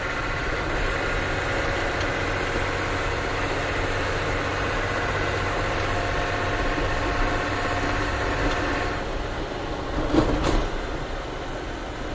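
A rollback tow truck's engine idles low and steady, a constant rumbling drone with a brief louder bump near the end.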